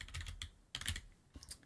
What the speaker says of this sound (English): So you can hear me typing now.